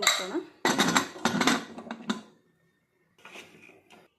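Metal pressure cooker lid closed over field beans, water and salt: several sharp clanks and scrapes in quick succession, then a brief pause and softer metallic rattling, close and fairly loud.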